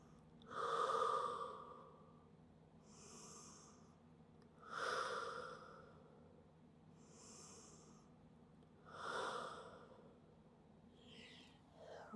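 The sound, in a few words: deep breathing in child's pose during pilates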